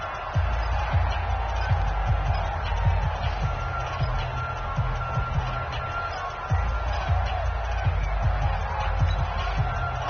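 A stadium crowd in a video game football broadcast roars with steady cheering, with low thuds scattered through the noise.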